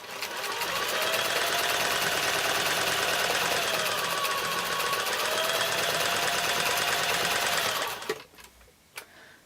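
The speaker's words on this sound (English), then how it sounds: "Presser foot back down and keep stitching." A sewing machine stitches quilt block seams in one long, steady, rapid-buzzing run up close. It stops near the end, leaving a few faint clicks and handling noises.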